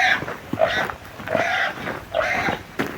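A pig grunts and squeals in three short, nasal bursts about a second apart, heard close and fairly loud with faint background noise.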